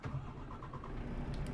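A truck engine in Euro Truck Simulator 2 hums at a low, steady idle-like drone, close and continuous for a brief moment with no voices.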